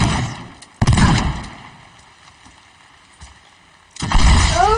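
Gunfire in the voxel game Teardown, heard as two loud, abrupt bursts, one near the start and another near the end, separated by a quieter stretch of faint rumbling and clatter.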